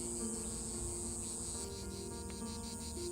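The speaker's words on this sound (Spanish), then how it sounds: "Esto es lo que sucede con las chicharras. Su ensordecedor chirrido" A dense, steady insect drone of high-pitched buzzing and trilling fills the air continuously, with no talking.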